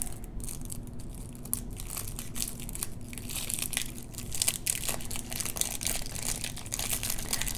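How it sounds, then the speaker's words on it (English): Plastic wrap being torn and peeled from a deck of action cards from the Risk Deep Space board game, a steady run of crinkling, crunching plastic close up, with no voices. "Just go ahead and unwrap them."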